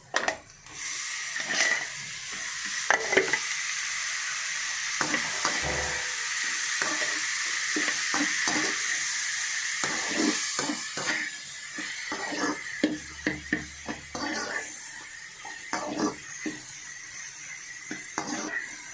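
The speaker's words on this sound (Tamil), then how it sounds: "வதங்கினோடனே பீட்ரூட் போட்டிடலாம்" Beetroot sautéing with garlic in a pan gives off a steady sizzle and hiss across the whole stretch, broken by frequent clinks and scrapes of a utensil stirring against the pan.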